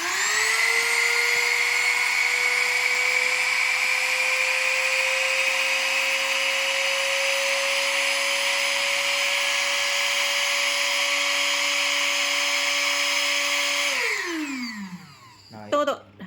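An electric vacuum pump draws air out with a loud, steady whine that slowly rises in pitch, then winds down abruptly near the end, followed by a couple of brief clunks.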